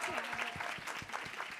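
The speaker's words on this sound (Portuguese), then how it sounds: "Salva de palmas para a professora Márcia" Audience applause for a teacher at a live educational podcast taping, a steady wash of clapping from a crowd that runs throughout with some voices mixed in.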